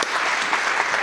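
Audience at a film festival awards ceremony in Austin, Texas clapping, a dense, loud burst of applause filling a brief moment, even and unbroken.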